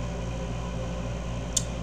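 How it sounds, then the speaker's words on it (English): A steady low hum from an air conditioner running indoors, continuous and fairly faint, with a tiny click near the end and no talking. "If you hear the humming in the background, that's because the AC is on."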